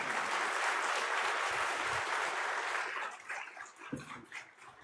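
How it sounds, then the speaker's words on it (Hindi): Applause from a large conference audience, fairly soft and distant, steady at first, then thinning into scattered claps and breaking up toward the end. "तालियां इतनी धीमी सी हैं?"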